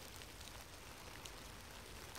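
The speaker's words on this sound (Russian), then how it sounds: "Уезжаем, он начинается сильный дождь" Heavy rain pouring down outdoors beside old workshop buildings of a former military repair base, a dense, steady hiss with scattered drop impacts, fairly loud and alone.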